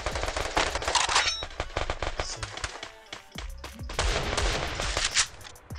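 Rapid automatic gunfire in the Garena Free Fire battle royale game: loud, crackling bursts of many shots in quick succession, with short pauses between volleys and steady background game ambience.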